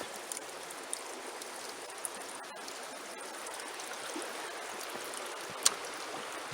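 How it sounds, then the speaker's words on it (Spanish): Wild Mandeo river in Galicia rushing past after the Teixeiro bridge, a steady broadband wash of flowing water with a few faint clicks and one brief sharp tick near the end, no voices. "el río y la naturaleza ganan en intensidad, en fuerza, ¿no? Estas ya no son aguas tranquilas,"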